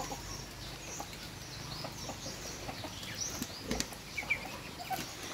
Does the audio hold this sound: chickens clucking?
yes